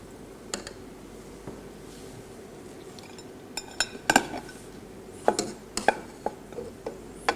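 Biryani is served from a cooking pot, with a scattering of sharp metallic clinks and scrapes of a serving spoon against the pot, loudest and most frequent in the second half over quiet background.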